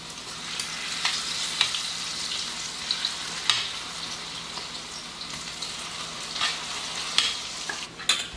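Chicken 65 pieces frying in avocado oil, a steady close sizzle with scattered crackles and pops and occasional light scrapes, with no voices.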